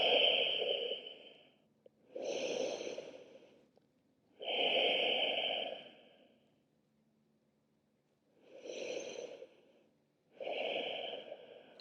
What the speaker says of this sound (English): Deeply breathing.